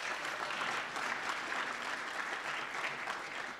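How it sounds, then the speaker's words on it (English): Steady applause from a modest crowd at a board of directors meeting, a few seconds of even clapping with no voices over it. "A little round of applause."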